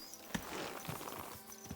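Horse hoofbeats in the video game Kingdom Come: Deliverance II, a few soft, irregular clopping thuds of a horse walking, faint and close in a quiet setting.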